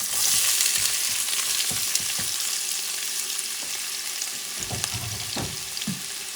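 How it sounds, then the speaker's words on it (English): Onion sautéing in a pan over medium heat, a continuous bright sizzle that fades slightly over time, with occasional utensil knocks and stirring scrapes, especially toward the end; no speech. "sauteing this onion"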